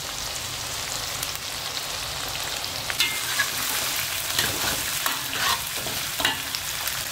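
Chili sambal sizzling and frying steadily in a pan while a utensil stirs it, with scraping stir strokes rising over the continuous crackle, close and alone without talk.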